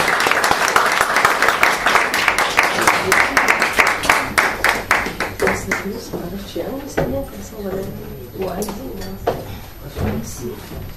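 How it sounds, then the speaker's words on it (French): Audience applause at a theatre play, dense clapping loud at first, then thinning into scattered, separate claps toward the end. "On applaudit, mes amis."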